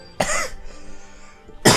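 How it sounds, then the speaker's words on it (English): Two sharp, close coughs from a male gamer, one near the start and another near the end, separated by a quiet pause with faint background hum. "Oh man, this cough is still killing me."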